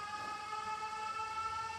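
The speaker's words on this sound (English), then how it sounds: "The sirens." Sirens wailing in the video game 13 Sentinels: Aegis Rim, an air raid alarm held as steady, sustained tones, fairly loud and continuous, with no voices over them.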